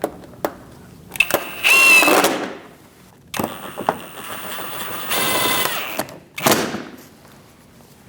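Screws and push pins go into the front right fender splash shield of a 2006-2011 Chevrolet HHR, with a few sharp clicks, scraping plastic and bursts of rapid power-driver whirring separated by short pauses.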